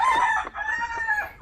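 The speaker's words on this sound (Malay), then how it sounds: "Ini ayam yang sedang bermain lah." A rooster crows once in a long drawn-out call on a farm garden with chickens, close and clear, ending with a faint cluck.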